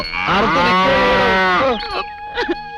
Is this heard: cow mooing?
yes